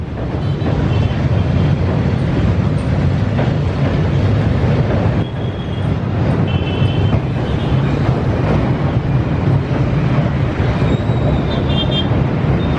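A train rolls across an old bridge in Hanoi's Old Quarter, a steady loud rumble and clatter of wheels on rails lasting throughout, with faint high squeals of metal near the middle and end.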